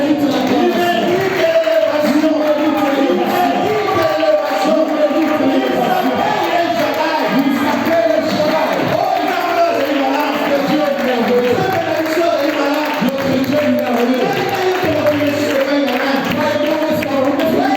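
A church congregation applauds and cheers in praise of God: sustained, dense clapping and acclamation from a large crowd, loud and continuous, with voices and shouts woven through it.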